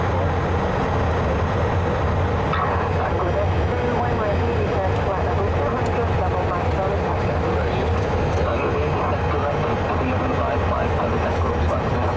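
A steady broadband roar fills the cabin of a Biman Bangladesh McDonnell Douglas DC-10 airliner in flight after climbing past 7,500 feet, constant and unbroken, with faint voices in the background.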